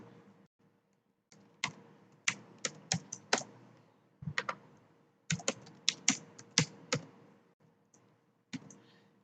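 Computer keyboard typing while a password is entered, in short bursts of crisp clicks with brief pauses between, moderately close and with no talking.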